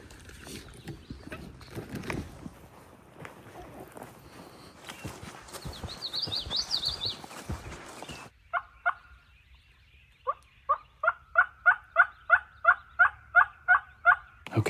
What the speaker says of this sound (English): Okay, we just heard a gobbler.